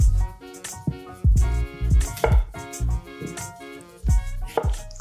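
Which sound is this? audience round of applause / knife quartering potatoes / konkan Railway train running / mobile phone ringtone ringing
knife quartering potatoes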